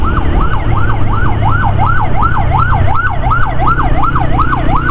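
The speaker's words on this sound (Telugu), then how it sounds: "వెనక లేదా అంబులెన్స్ వచ్చినట్టుంది." An ambulance siren comes up from behind on a road during a motorcycle ride, a loud, steady wail that sweeps up and down in even cycles over constant traffic and wind noise.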